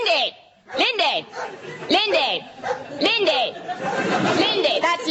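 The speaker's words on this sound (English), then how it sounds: "She is presently in the yard, barking at rats." A red setter barks repeatedly and loudly nearby in a yard, sharp yelping barks in quick irregular bursts, with some whining between them.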